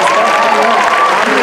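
A convention panel audience applauds loudly, a thick burst of clapping mixed with some cheering voices across the whole brief moment.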